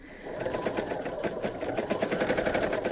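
A sewing machine runs steadily through a quick, even burst of stitching while embroidering a stem on a bohemian spring quilt block, close and alone.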